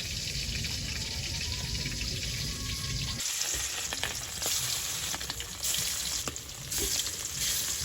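A pot of thin Hilsa fish curry with potatoes boils over a village fire, giving a continuous bubbling hiss and sizzle, close and steady, with a brief shift in texture partway through and no talking.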